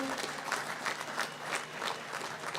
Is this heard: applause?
yes